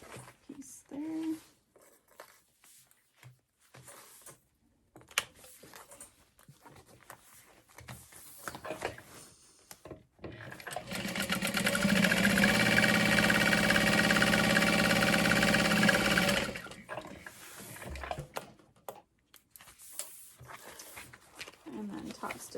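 A sewing machine top stitches a tote bag in one steady continuous whir lasting several seconds in the middle, with quiet handling noises and a person speaking before and after.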